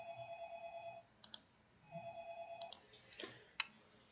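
A telephone rings in two electronic bursts with a pause between, a steady trilling tone, faint and somewhat distant, followed by scattered clicks and taps with no talk.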